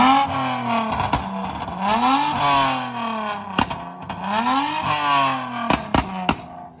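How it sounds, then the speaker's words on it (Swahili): A Toyota Mark X with a custom stainless steel exhaust is revved repeatedly, several rising and falling engine sweeps close by, punctuated by sharp pops and cracks from the exhaust. "Hey, give us some revs"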